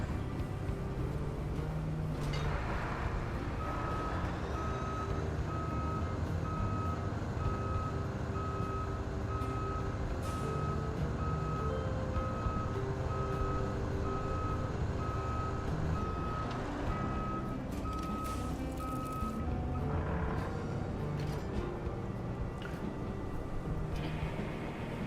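A truck in Roadcraft backs up, its reversing alarm beeping in an even, repeated pattern for about fifteen seconds over a steady low engine rumble, with no talking.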